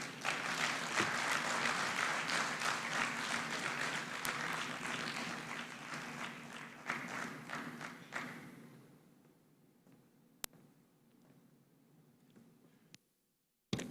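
A crowd claps steadily and fairly loudly, then the applause thins and fades out into near silence, with a couple of sharp knocks at the end.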